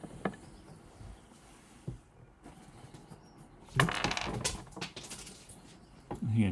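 Dice drop onto a table during a tabletop role-playing game session, giving a few sharp clicks and a short rattling tumble amid quiet room noise.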